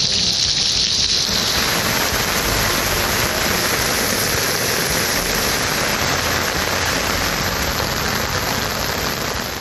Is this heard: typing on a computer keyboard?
no